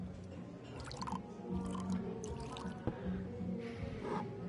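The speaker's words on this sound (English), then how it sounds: "Can I pour you a glass?" Liquid pours and splashes into a glass in Life is Strange: True Colors, with soft wet trickling and dripping bursts over a low background hum and no voices.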